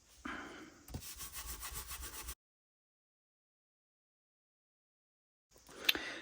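Tracing paper being rubbed to distress it, giving a brief scratchy rubbing close by, then a few seconds of silence before a short final scrape.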